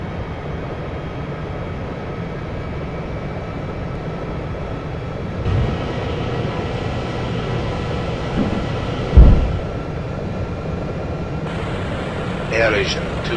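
An AirAsia airliner taking off from runway 05, heard as a steady, broad engine roar that holds throughout with small swells. Radio-like speech runs over the noise.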